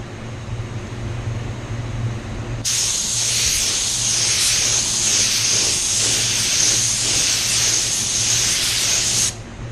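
A paint spray gun, set to 25, starts abruptly and hisses loudly and steadily for several seconds while spraying Mazda Soul Red Crystal paint, then cuts off, over a low background hum.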